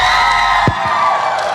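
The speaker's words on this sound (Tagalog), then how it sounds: "pati yung mga taga-Malaysia, grabe sila mag-cheer" A large arena crowd at the MLBB M6 World Championship in Malaysia cheers and shouts in a loud, sustained roar, with a brief dip partway through before the noise carries on.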